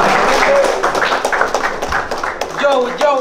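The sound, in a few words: loud audience applause at a rap battle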